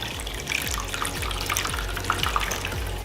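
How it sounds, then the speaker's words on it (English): Melted candle wax being poured into a bowl, a steady liquid trickle with faint drips and small splashes, fairly close and continuous, with no talk. "So now I'm going to just lightly, not as lightly, pour it into the bowl."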